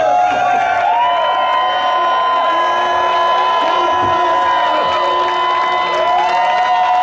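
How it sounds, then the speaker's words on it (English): A large crowd at an Uber drivers' protest rally cheers and claps continuously, with whoops and shouts over a sustained roar. "Let's give such a round of applause"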